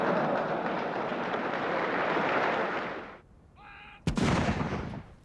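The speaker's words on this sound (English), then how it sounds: "A 21-gun salute in Hyde Park to celebrate Prince Philip's 70th birthday" A 21-gun salute of artillery fired in Hyde Park for Prince Philip's 70th birthday: a long, loud rumbling roar, a brief quieter gap, then one sharp, heavy boom that rolls off.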